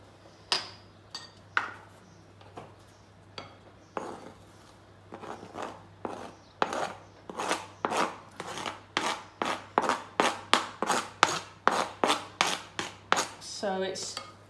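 Chopped coriander is stirred into a pakora batter, a series of wet scraping, slapping strokes that start sparse and grow into a fast, regular rhythm near the end, close and clear, no voices.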